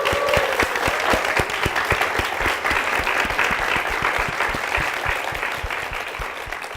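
A church congregation applauds the pastor in a sustained, loud round of clapping, with rhythmic claps and a brief voice at the start, tapering slightly toward the end.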